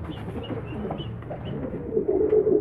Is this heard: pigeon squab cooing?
yes